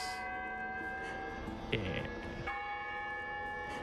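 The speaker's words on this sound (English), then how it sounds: "I love the noise the bells make." A bell struck twice in a video game, two bright ringing tones with long sustained overtones, the second strike following shortly after the first, heard clearly over steady game background sound; a person says a brief word.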